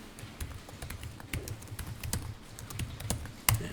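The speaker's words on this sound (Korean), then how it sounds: "그리고 거기다 타자 하시면 돼요." Quick, soft taps of typing on a computer keyboard during an accounting software lesson, irregular clusters of keystrokes with a sharper hit near the end, faint and close.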